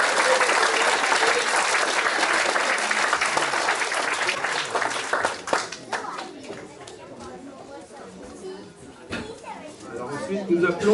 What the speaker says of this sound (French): Et on peut l'applaudir. Bravo, on l'applaudit.